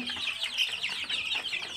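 Chicks of a large hill chicken breed peep and cheep continuously in quick, high-pitched overlapping bursts, close by, with soft clucking and no talk.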